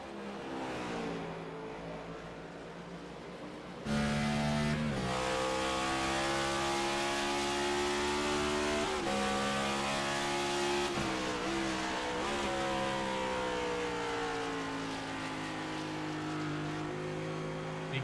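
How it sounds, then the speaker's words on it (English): Race cars in an oil cup series race at World Wide Technology Raceway downshift and brake through a corner, engines rising and dropping in pitch through repeated gear changes, loud and close, without talk. "You can hear how much these guys are downshifting, braking, dragging all the way through that corner just to keep it on the bottom here"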